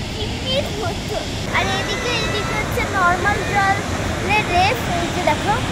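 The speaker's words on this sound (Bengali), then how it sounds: "এই ঝর্ণার জলটাই এখানে নদী হয়ে গেছে।" A forceful waterfall on the route from Sela Pass toward Tawang gives a broad, steady rushing roar, heavy and constant, with people talking and exclaiming over it throughout.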